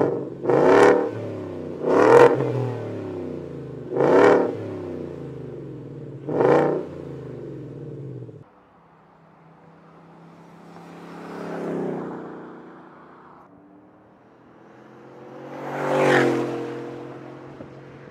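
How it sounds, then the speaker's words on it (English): A Ford F150 with a Coyote 5.0 V8 and Roush exhaust revs in four sharp, loud blips, then makes two longer swelling revs that rise and fall, with a deep rumbling idle between them. "Roush is notorious for being a super loud exhaust system"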